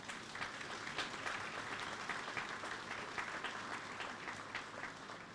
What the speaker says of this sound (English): Ladies and gentlemen, I believe we should recognize Mr. Wayne Chance by a lustrous round of applause